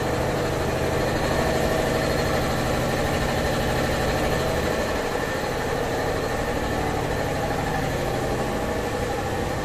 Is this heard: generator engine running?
yes